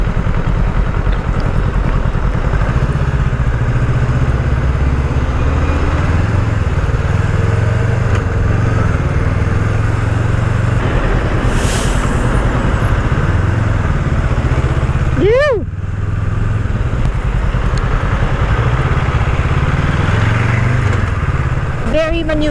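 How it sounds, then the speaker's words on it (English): Honda Rebel 500 motorcycle out on a ride, its engine droning steadily and loud throughout with wind roar, while a rider talks over it. "Well, I am glad I am on a motorcycle."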